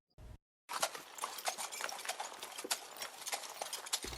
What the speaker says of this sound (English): Salas was able to gingerly coax the two horses down the small street leading up to Lady Tyrrell's villa.